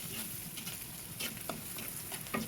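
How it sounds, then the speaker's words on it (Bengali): Sliced onions frying with turmeric and salt in a pan, a steady soft sizzle with light scraping stirs, fairly quiet and close, no voices. "পেঁয়াজটা একটু ভালো করে ভাজতে হবে"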